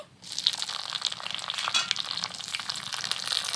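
Whole cumin, poppy seeds, bay leaf, dried red chilli and chopped tomato hitting hot oil in a pan, a sudden loud sizzle that starts after a brief quiet moment and keeps crackling steadily with scraping stirs.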